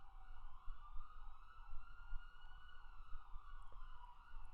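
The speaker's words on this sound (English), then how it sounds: "Can you hear those sirens?" A wailing siren rises and falls continuously at a distance, faint over low traffic rumble, with no voices.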